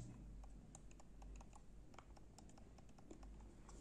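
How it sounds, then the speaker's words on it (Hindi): Soft, quick clicks from a Logitech M331 Silent Plus wireless mouse, faint and close, repeating at an uneven pace over a low steady hum. "जो इसकी क्लिक की साउंड है वो काफ़ी मिनिमल है"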